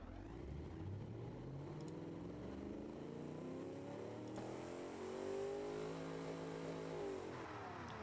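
A car engine revs steadily in the Automation game on a randomised build running bias-ply tyres, its pitch climbing and falling in smooth sweeping harmonics, moderately quiet and heard alone without talking.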